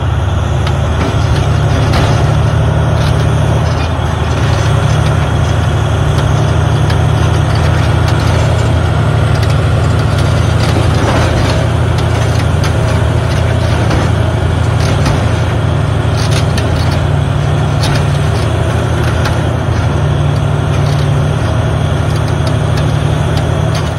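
A Komatsu D575A bulldozer's 1,150-horsepower V12 turbo engine runs with a steady, loud, deep rumble that holds constant throughout, with no voices present.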